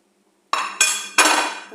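Chicken kebab marinade with yogurt being mixed in a bowl, three sharp metallic clinks of a spoon against the bowl, each ringing briefly, close and alone.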